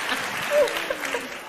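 A Houston audience gives a short burst of applause, a brief patter of clapping that swells and fades within a second or two.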